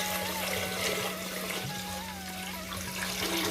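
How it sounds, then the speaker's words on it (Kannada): Water pouring onto washed red boiled rice in a pressure cooker, a continuous close trickle and gurgle holding steady throughout with no talking. "ತೊಳೆದಾದ್ಮೇಲೆ ನೀರು ಹಾಕಿ"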